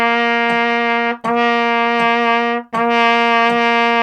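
A trumpet plays a slow half-note exercise beginning on low C: three long sustained tones, each held about 1.3 seconds and separated by short breaths, loud, close and steady, with no talking.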